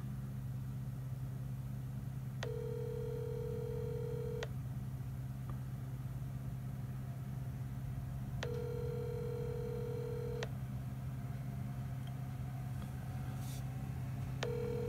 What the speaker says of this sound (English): Let's see if there's an answer on the cell phone.